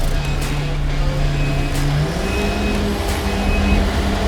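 A CAR MIX JBJ 3.5 cubic metre concrete mixer truck driving, its engine droning loudly and steadily at close range, the pitch rising as it gains speed partway through.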